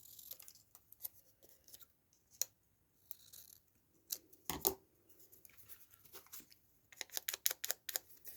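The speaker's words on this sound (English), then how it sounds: "Let's just cut that out." Scissors snip through paper while a botanical journal is decorated, several quiet separate cuts spread out and then a quicker run of snips near the end, close up, with no talking.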